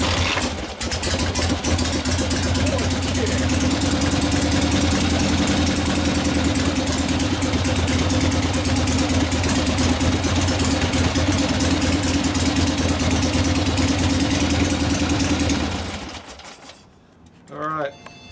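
A 1970 Harley-Davidson Ironhead Sportster XLCH, a rigid bobber chopper build, idles steadily and loud up close for about fifteen seconds, then shuts off, with people talking nearby.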